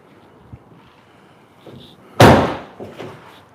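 A sudden, loud sneeze bursts out after a faint intake of breath, followed by a couple of softer bumps and noises nearby.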